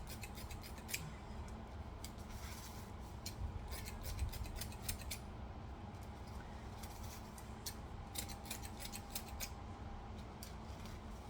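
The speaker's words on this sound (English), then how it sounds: "I'm gonna cut some more" Scissors snip steadily through deco mesh for a wicked witch wreath built on an evergreen base, a continuous run of crisp, close cuts and rustling with no talking.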